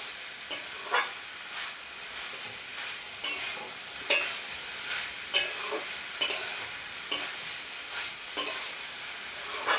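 Figs and prawns sauté in a pan under a steady sizzle, while a spoon stirs and scrapes in regular strokes roughly every second, close and alone without talk.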